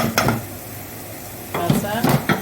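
Onions frying in a pan, a soft sizzle broken by a few scraping stirs of a utensil against the pan, with no talk.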